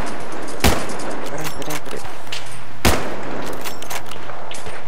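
Two sharp, loud video game gunshots about two seconds apart, each a sudden broadband crack, with faint game-like clicks and a low hum between them.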